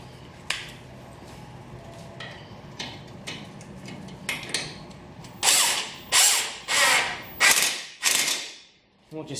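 A hand ratchet tightens the lower bolt on a 100 Series Land Cruiser's suspension, first with soft scattered clicks and knocks, then a run of five or six loud, close bursts of rapid clicking.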